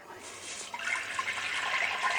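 Water pours steadily into a cooking pot of spinach and mutton, a close, continuous splashing rush that builds slightly over a couple of seconds with no voices.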